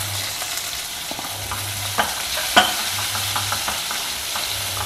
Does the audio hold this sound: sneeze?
no